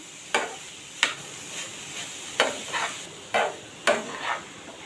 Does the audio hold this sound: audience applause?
no